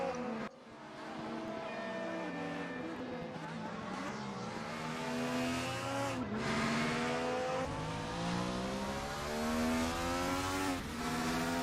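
DTM 1995 race car engines in the RaceRoom Racing Experience sim scream up to around 12,000 rpm and drop sharply at each gear change, with repeated loud rising sweeps that continue without pause.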